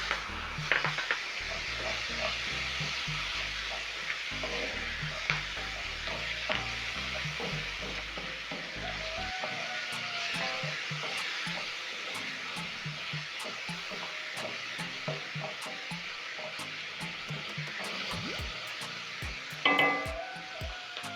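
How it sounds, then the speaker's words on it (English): Spices and sausage sizzle in a hot pan for penne pasta, a steady crackling fry close up with occasional scrapes and clinks of a utensil stirring against the pan, no voices. "Toss the spices for about 30 seconds."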